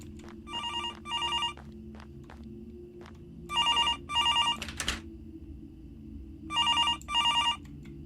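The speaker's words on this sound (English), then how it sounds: "Gotta run, there's a phone call." A telephone rings in the Graveyard Shift video game, three pairs of loud, bright electronic rings repeating at a steady pace over a low ambient drone, with faint footsteps between them.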